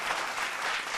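A seated audience at a Tamil speaking event breaks into a dense, steady burst of clapping, close and loud throughout.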